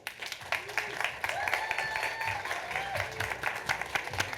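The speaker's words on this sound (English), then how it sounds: "Let's give a round of applause for Alan Smithson, please." Applause from the audience at a future-focused event, welcoming a keynote speaker to the stage, sounds as scattered, moderately loud clapping with faint crowd murmur and voices mixed in.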